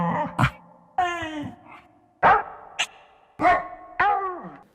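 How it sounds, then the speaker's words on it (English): Sampled dog vocalizations for building a beat on a Korg Volca Sample: a string of close, loud barks, whines and grunts, some short and sharp, others drawn out and moaning, with brief gaps between them. "I'm going to attempt to use the Volca sample to make beats out of dog barks, whines, grunts, and harumphs"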